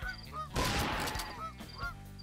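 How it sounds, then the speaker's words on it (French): Wild chicken-like game birds call in a hunting video game set in Alaska, giving several short honking squawks that repeat in uneven bursts against steady background ambience, with one louder, noisier rustle near the start. "Une sorte de poulet sauvage."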